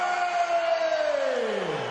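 A capacity arena crowd in London roars for heavyweight boxer David Haye, a sustained loud cheer with a rising, then falling, whooping tone across two seconds.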